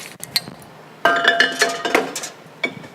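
A cocktail splashes and trickles into a glass, with light clinks of glassware and ice, in short bursts close by.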